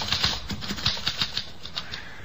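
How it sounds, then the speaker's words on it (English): Typewriter keys clacking in a quick, uneven run of about a dozen sharp strikes, close and fairly crisp, with no talk over them. "Here's a typewriter."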